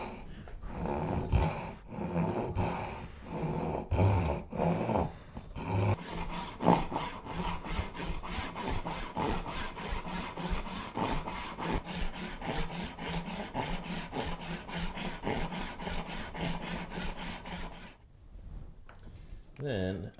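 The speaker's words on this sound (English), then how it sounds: "Now I can just start cutting away." Handsaw cutting into a wooden board on a workbench, a close, rhythmic run of rasping back-and-forth strokes that holds steady, then stops near the end, with speech at times.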